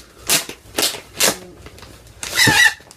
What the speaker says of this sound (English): sorry for the sound, that's the jacket.